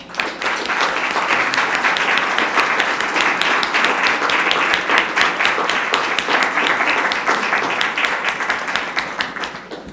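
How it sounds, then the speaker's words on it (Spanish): An audience at a public policy conference of a state electoral and citizen participation council gives a guest speaker a long round of applause, dense and steady, with many hands clapping throughout and no speech over it. "Les pedimos le brinden un fuerte aplauso."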